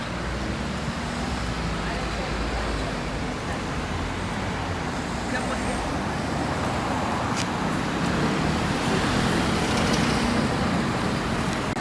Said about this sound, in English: now we're back onto the very noisy Bayswater Road